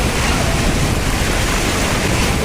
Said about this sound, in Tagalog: sobrang lakas umapaw tignan nyo naman kasi yung impact ng tubig